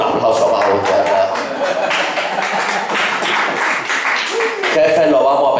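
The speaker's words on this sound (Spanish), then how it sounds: "Un aplauso para Gutiérrez." Applause for Gutiérrez from a congress audience during a comedy monologue: scattered rhythmic clapping with laughter and crowd voices mixed in, loud throughout and mostly under the noise of the room.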